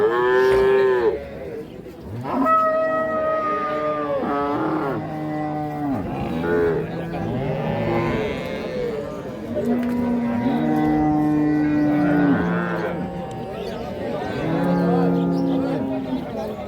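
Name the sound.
Holstein Friesian cow mooing at cattle market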